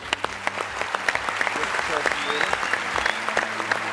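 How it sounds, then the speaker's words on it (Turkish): Studio audience applause on the O Ses Türkiye TV show, a steady wash of clapping with some cheering, loud and close, with a presenter's voice over it. "Buradan hep beraber ona bir alkış gönderelim."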